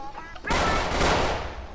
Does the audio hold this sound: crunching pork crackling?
no